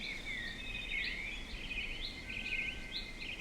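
Continuous high, warbling birdsong with quick chirps and trills, moderately loud over a soft hiss of background noise.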